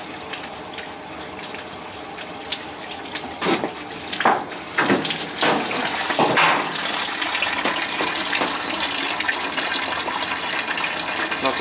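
Water runs and splashes steadily from an old washing machine supply pipe riser as it drains, a continuous rushing flow with a few sharper gurgles and spurts partway through.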